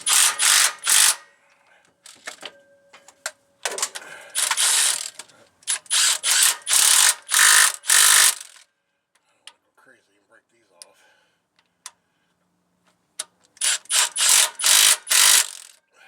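Snap-on socket ratchet clicking in quick bursts of pawl ticks while turning transmission bolts, close and crisp, separated by pauses and brief quiet handling noises.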